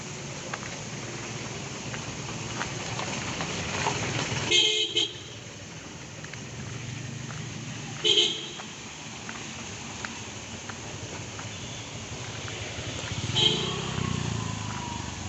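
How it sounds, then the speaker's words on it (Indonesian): Short car horn blasts sound a few times inside a damaged, water-flooded tunnel in Central Tapanuli, Indonesia, over a low, echoing rumble of traffic, with brief toots spaced several seconds apart. "kita akan sering mendengar suara klakson yang sahut menyahut"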